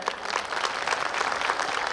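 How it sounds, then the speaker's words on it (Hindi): Audience applause at a school annual function, a dense, steady wash of many hands clapping that holds loud and even for about two seconds, with no voices over it. "तो एक ताली तो बनती है"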